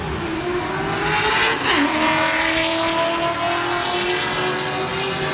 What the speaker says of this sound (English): And they're racing Mustangs,